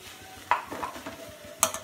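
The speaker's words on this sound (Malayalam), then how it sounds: "വെള്ളമൊക്കെ വറ്റിയൊന്ന് തോർന്നു വരേണ്ട വരെ നമുക്കൊന്ന് ഇളക്കി കൊടുക്കാം" Clam thoran being stirred in a pan until its water cooks off, with two sharp utensil scrapes against the pan over a soft background sizzle, no voices.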